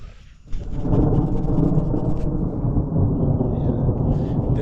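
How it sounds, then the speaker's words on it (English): Rain falls over a rural off-grid village as thunder rolls in. A quiet start gives way to a sudden, loud, sustained rumble of thunder over steady rainfall. "The rains are back and you can hear it"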